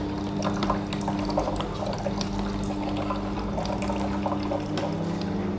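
Fresh corn milk streams steadily out of a Hurom H22 cold press juicer, a continuous liquid trickle layered over the machine's low motor hum, with no one speaking.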